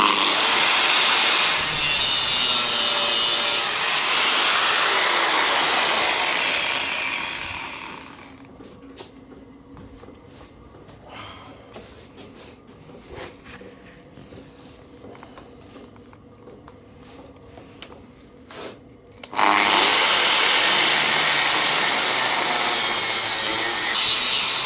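Angle grinder fitted with a fresh cutting disc slicing through a BMW GS motorcycle frame, a loud harsh continuous grinding roar that drops away to a quiet stretch of rattles and knocks, then starts again at full loudness.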